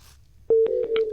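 Electronic phone-line tones on a radio call-in farming programme: a steady tone begins midway, broken by several short beeps near the end, heard alone with no talk.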